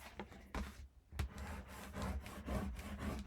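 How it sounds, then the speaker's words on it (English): Paper being burnished for a handmade mini album, a series of soft, close scraping rubs in short strokes, with a brief pause near the start before the rubbing resumes steadily. "I've already burnished this in, but I'm burnishing it again."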